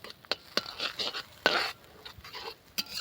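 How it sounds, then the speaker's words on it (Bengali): Spice paste being stirred and sautéed in a pan for a light magur fish curry, with a series of sharp spoon scrapes and taps against the pan over a faint sizzle. "এইভাবে মশলাটাকে একটু কষিয়ে নেব"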